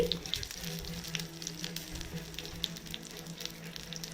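Last scrapings of dosa batter sizzling in hot oil on a pan, a steady broadband fry with a low hum underneath and a few small pops, fairly quiet and continuous.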